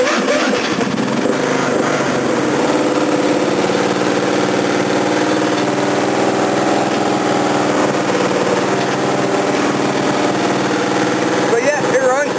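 Craftsman DYT 4000 lawn tractor engine running steadily after a spark plug change and battery charge, a loud continuous mid-pitched drone, nearby.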